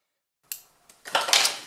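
Scissors snipping through packaging while unboxing a Philips Hue smart lamp: a short sharp snip, a faint second cut, then a denser crinkly burst of plastic and cardboard handling, close and fairly quiet.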